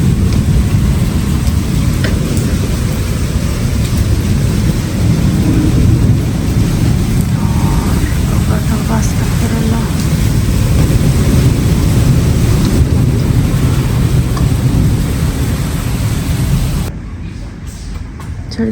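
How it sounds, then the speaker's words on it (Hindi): Heavy rain pours in a dense, continuous hiss with a low rumble underneath, steady for a long stretch before abruptly dropping away near the end. "बारिश हो रही है यहाँ"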